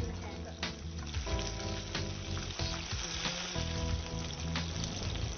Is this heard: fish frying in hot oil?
yes